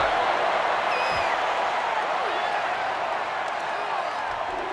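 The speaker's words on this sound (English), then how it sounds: "And this crowd is going crazy." A large stadium crowd roars and cheers continuously in the NCAA Football 09 video game, a broad sustained wash of noise with a few whistles, while a commentator talks over it.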